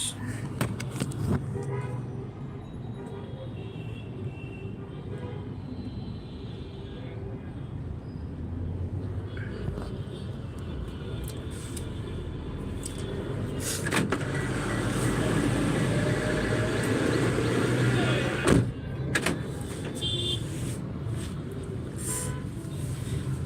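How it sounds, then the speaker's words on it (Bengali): Vehicles drive along a nearly empty city street on a Ramadan Friday, a continuous mid-distance traffic drone with occasional louder swells as cars pass by, swelling toward the end. "গাড়ি ঘোড়া খুব সুন্দরভাবে স্মুথভাবে চলতেছে"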